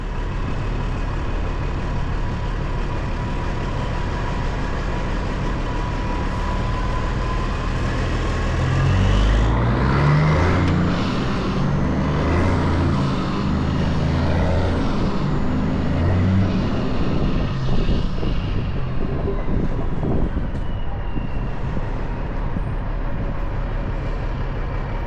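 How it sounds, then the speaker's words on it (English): A pickup truck towing a Landoll trailer drones steadily throughout, with a heavier, louder stretch of engine labor and road roar through the middle before easing back to a constant hum. "I know the motor's noisy"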